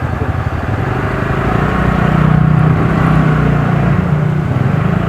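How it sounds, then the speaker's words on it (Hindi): A TVS NTORQ Race XP BSVI 2021 scooter being ridden, its exhaust giving a steady, fairly loud engine drone throughout with constant wind and road rumble. "इसका एग्जॉस्ट थोड़ा सा अलग है, मतलब थोड़ा ज़्यादा बोल्ड है। और अभी इसको राइड कर रहे हैं"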